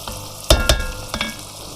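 Food sizzling and frying in a pan while being stirred for a batch of baked beans, a steady crackling hiss broken by a few sharp scraping stirs, close and fairly loud with no talking.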